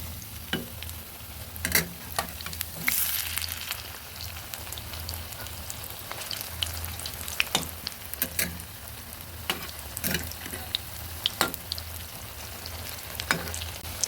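Vigorous, crackling sizzle of taro leaf pakoras frying in hot oil, with sharp pops and occasional scraping taps over a constant hiss.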